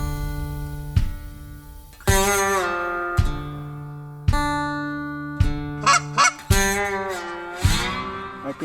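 Specklebelly geese give loud, repeated honks and harmonic calls in bursts, some close and some overlapping, with brief gaps between calls during a waterfowl hunt in Saskatchewan.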